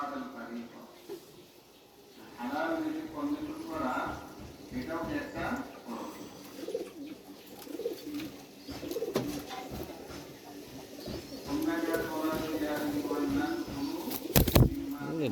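Pakistani pigeons coo repeatedly in soft, warbling phrases close by, continuing under a voice talking throughout.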